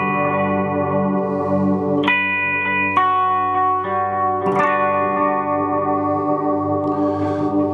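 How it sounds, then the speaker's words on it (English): Electric guitar through a Boss MS-3 multi-effects unit with delay engaged: sustained chords and picked notes ring out with repeating echoes smearing each attack, clean and up close with no talk. "let's get a different delay here"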